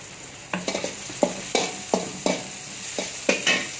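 Green chillies, curry leaves and coriander sizzle in a hot pan while being stirred, producing a series of about ten crisp scraping strokes at an irregular rhythm over a soft frying hiss, close and with no voices.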